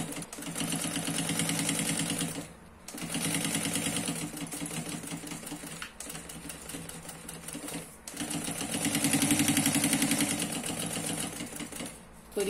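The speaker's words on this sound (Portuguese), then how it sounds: "Então a gente coloca o avesso certinho e costura ao redor." A sewing machine stitches around the edges of fabric for a diaper changing pad, running in loud, steady rapid bursts. Three long runs of mechanical stitching are separated by brief pauses.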